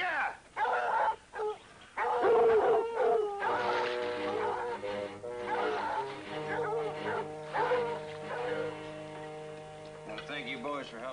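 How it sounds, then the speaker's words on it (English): A dog howls in long, wavering drawn-out tones amid other noises and voices, with several overlapping howls sustained for many seconds, in a 1977 swamp-set drama. "Dog."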